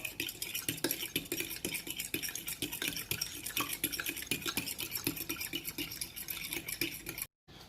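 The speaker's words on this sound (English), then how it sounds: "So I'm just gonna whisk these together." Two eggs being whisked together in a bowl for fried chicken niblets, a steady rapid clatter of whisk against the bowl running nearly without pause, close and fairly loud, with no voices.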